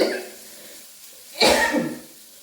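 A single throaty cough from a person with a cold bursts out after faint background murmur, fairly close and moderately loud.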